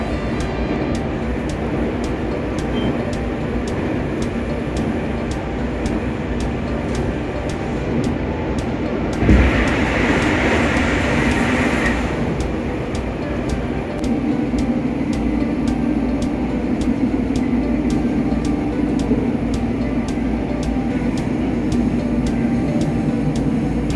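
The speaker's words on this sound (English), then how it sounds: "The train runs in the prairie." A train running through open prairie: a continuous rolling rumble with regular clacks from the wheels over the rail joints, plus a brief louder hiss partway through, with no voices.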